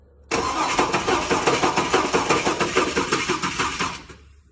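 A built GMC Yukon Denali with an LS3-style top end cranks over during a cylinder test, a loud burst of rapid rhythmic starter chugging for about four seconds before cutting off abruptly.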